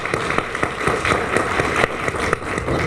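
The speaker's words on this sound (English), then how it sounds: "Big round of applause" An audience at a Chamber of Commerce awards event claps in steady, sustained applause, a dense patter of many hands with scattered louder claps throughout.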